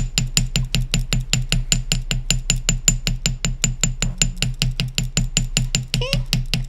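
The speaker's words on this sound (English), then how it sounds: "when you hammer it with a metal hammer, you're flattening and adding texture to the wire" A metal chasing hammer strikes wire to flatten and texture it, a steady rapid run of sharp, close, evenly spaced taps, about five per second, on a hard surface.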